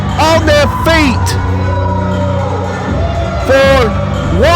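A wrestling crowd on its feet cheers for Calyx Sunrise in Haybarn Championship Wrestling, loud whoops and shouts swelling under a commentator's voice.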